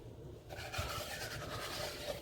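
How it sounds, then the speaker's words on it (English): Hair bleach being rubbed into the roots by hand makes a soft, continuous rasping and rubbing sound, close and fairly quiet. "And you see how I'm kind of rubbing it in?"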